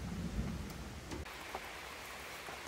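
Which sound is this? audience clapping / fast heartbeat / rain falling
rain falling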